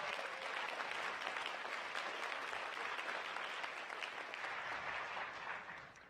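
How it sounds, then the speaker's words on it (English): Sustained audience applause fills a hall at the San Jose State of the City address, a steady dense clapping that holds evenly before tapering off at the end. "Give them a round of applause."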